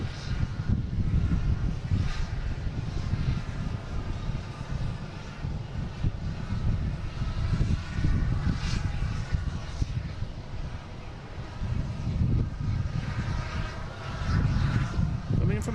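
A Delta airliner arriving at Boston Logan airport gives a loud, sustained engine roar with a low rumble that swells and holds throughout, heard from the ground.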